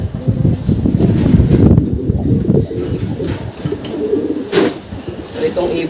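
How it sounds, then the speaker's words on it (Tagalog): An imported racing pigeon from the USA, a one-loft race bird, coos in low, throaty pulses close by, with a faint rustle in the background. "So itong ibon na to is ibon ni Alonso Horvich ng USA."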